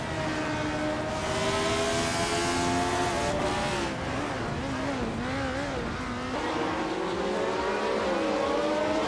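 A 1971 McLaren 19A race car drives with a loud, close engine drone that holds steady, then rises and falls in pitch through gear changes and throttle shifts, with no voices.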